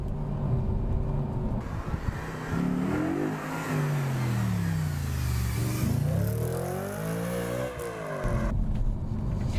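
A B7 Audi RS4 engine revs up and down in sweeping rising and falling pitches, loud and close, with a rumbling idle at the start and end.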